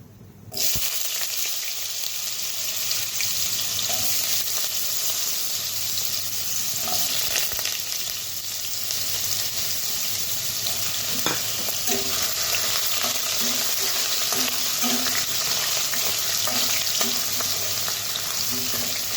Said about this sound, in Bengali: তো আলুটা হালকা হালকা ভেজে নিয়েছি